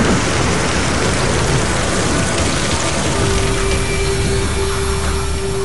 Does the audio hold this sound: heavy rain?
yes